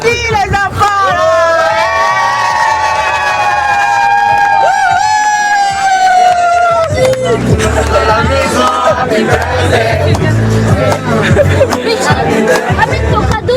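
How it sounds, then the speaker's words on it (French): Crowd cheering and whooping for children at an 18th birthday party in the Paris region, loud and continuous, with a sustained shout at first, then a babble of voices and cheers. People talk and shout throughout. "On applaudit les enfants là."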